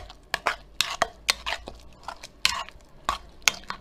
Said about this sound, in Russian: Перемешиваю и ставлю на огонь для проварки.